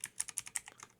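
Quick bursts of keystrokes on a computer keyboard, about a dozen light, close taps in an uneven rhythm, with no voices.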